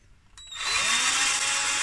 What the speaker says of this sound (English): I'm drilling the holes for the distance between the wire